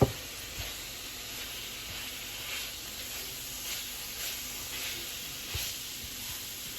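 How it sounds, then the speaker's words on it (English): A soft, steady sizzle of seasoned ground beef frying in a pan for tacos, a continuous faint hiss with occasional small pops and no talking. "Now that's where we want to hear that sizzle."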